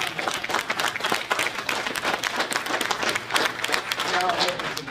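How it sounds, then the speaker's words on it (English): Crowd at a mayoral candidates forum clapping for themselves, a busy, uneven burst of applause with individual claps audible, mixed with some voices and crowd noise. "Give yourself a big round of applause."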